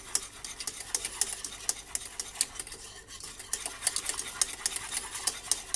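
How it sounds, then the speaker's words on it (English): A spoon stirs milk in a pan for pumpkin pie coffee creamer, producing a rapid, continuous run of light metallic scrapes and clicks against the pan, steady and close with no talking. "I'm going to keep stirring for a second here."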